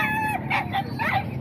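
A straight-comb rooster crows up close, a loud rising and falling call that rings out clearly over faint background noise.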